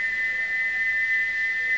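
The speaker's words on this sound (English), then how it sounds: "Gordon puffed sadly away, but he wouldn't stop whistling" A model train steam whistle sounds as one steady, piercing, pure tone held for the whole moment, loud and close.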